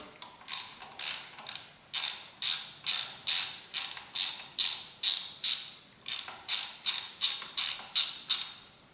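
A ratcheting 4mm Allen-key tool clicks in quick, regular bursts while loosening bolts on a 1977 BMW R75/7 motorcycle engine, close and crisp with a short pause midway and no talking.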